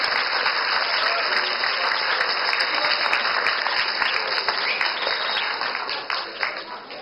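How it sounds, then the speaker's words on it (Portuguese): Audience applause during a Black Consciousness Week event, a loud, dense burst of many hands clapping that holds steady and then tapers near the end, with faint voices mixed in. "merecem os nossos aplausos"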